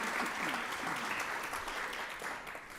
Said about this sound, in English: A round of applause and hello to the over 600 households who have registered for our live stream.